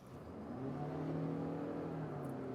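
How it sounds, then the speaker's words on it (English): A 2024 Toyota RAV4 Prime plug-in hybrid's gas engine, paired with a continuously variable transmission, drones steadily at a low tone throughout, rising slightly in pitch, loud and continuous with no voices. "the engine does tend to drone quite a bit"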